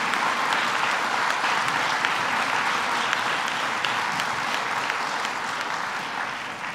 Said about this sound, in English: let's give them a round of applause, your teachers, and thank them for all that they do